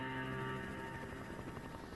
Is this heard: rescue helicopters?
yes